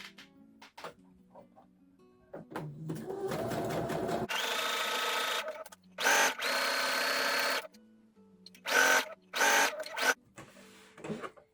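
A sewing machine stitches a scant quarter-inch seam in jersey knit fabric, running in several bursts of steady mechanical whirring separated by short pauses, with small handling clicks and taps between runs.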